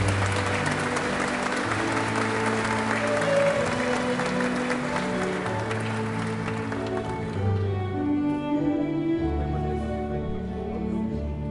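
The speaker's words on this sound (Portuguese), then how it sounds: "Uma salva de palmas!" Guests applaud at a wedding ceremony, sustained dense clapping from a crowd in a room, loud and steady before thinning slightly toward the end, with music playing beneath it.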